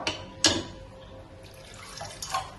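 Short bursts of water splash and trickle into a cooking pot of lentils and vegetable pieces for Kerala kootu curry, with a couple of louder pours amid quiet background.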